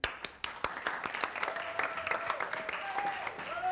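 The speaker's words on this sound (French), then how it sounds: "Allez, applaudissez-le." Audience applause in a comedy show setting, a quick burst of scattered claps that settles into steady moderate clapping from a crowd.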